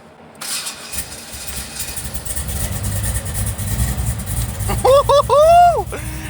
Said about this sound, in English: Starter might not be happy from what Eric did to it.